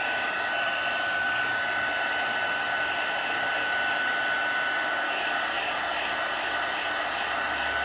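Heat gun melting embossing powder on a card: a constant, close blowing hiss and motor whine, steady in level throughout without pauses or talk.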